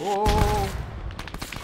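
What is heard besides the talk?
BMP armoured vehicle shooting at players in a milsim video game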